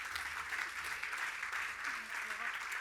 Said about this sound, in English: A big round of applause for our friends again as they come to the stage.